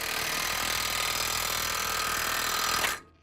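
An impact wrench rattles hard as it tightens a lug nut to draw a wheel stud into the hub of a truck. The loud, continuous hammering is close and alone, then cuts off abruptly near the end.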